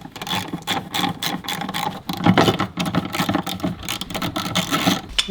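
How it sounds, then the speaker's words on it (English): A ratchet with a 10mm socket works loose the bolts on the fuel pump module of a 2020 Land Rover Range Rover Evoque, producing close, rapid clicking in uneven bursts with short pauses between strokes, without speech. "you'll need a 10mm socket to undo it"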